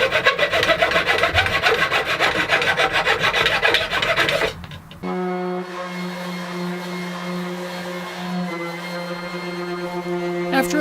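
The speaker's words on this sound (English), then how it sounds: "After a little bit of final sanding" A wooden coffee cup holder gets its final sanding by hand. Fast, rough rasping strokes repeat steadily for a few seconds, then stop and give way to a smooth, steady tonal whir.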